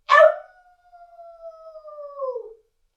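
A single voice imitates a red wolf's howl, opening with a sharp burst and then holding a long, steady wavering tone that slides down and fades, loud and close with no other sounds.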